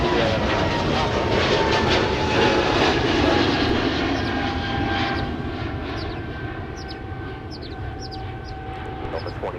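Loud, close roar of a fixed-wing airliner arriving at Minneapolis–Saint Paul airport, a broad sustained engine rumble and whine that slowly eases off over about ten seconds.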